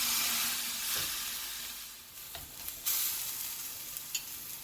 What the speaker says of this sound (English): I'm going to continue to cook the ground beef until it's cooked well and everything is combined.